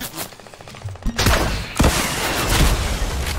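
Rapid bursts of explosions and gunfire in Fortnite, loud and dense, with heavier blasts breaking through around the middle of a continuous barrage.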